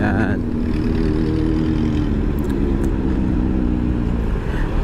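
A motorcycle engine runs loud and steady on a road nearby, a continuous low rumble with no clear pass-by swell, while a voice talks faintly underneath.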